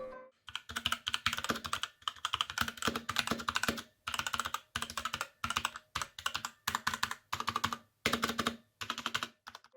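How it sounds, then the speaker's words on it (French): Rapid typing on a Motospeed CK62 mechanical keyboard, close and crisp, in bursts of clacking keystrokes separated by short pauses. "maintenant je vais vous faire écouter le bruit du clavier"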